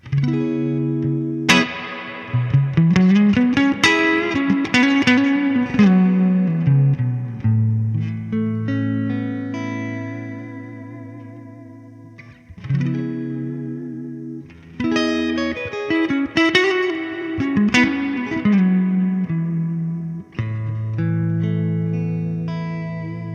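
An electric guitar rings out through a warm, saturated vintage amp head, playing sustained bends and melodic phrases with long decaying notes and brief pauses between them.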